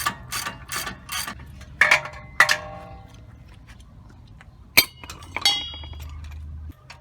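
A ratchet and breaker bar loosen a rear wheel nut on a Toyota Tundra 4x4, giving close metallic ratcheting clicks and clinks in several bursts, with a sharp clank near the end, alone without speech.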